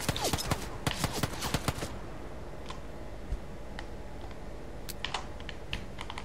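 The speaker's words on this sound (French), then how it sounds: "Casse-toi, on me tire dessus" Gunfire in PUBG on Xbox One, sharp rapid cracks in quick bursts at the start, then sparser scattered shots further off over a steady background.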